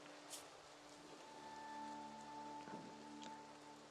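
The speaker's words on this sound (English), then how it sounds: "It'll eventually stop raining, man." Rain falls steadily in the colony simulation game Rimworld, a soft even patter over a quiet sustained musical tone, with no speech.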